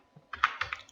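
A few quick keystrokes on a computer keyboard, four or five close, soft clicks in under a second with no other sound.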